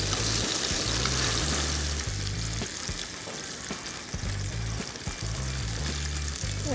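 Salmon fillets, so tender they break apart when turned, sizzle steadily in a hot pan, with a continuous frying hiss and a few soft stirring or scraping touches throughout.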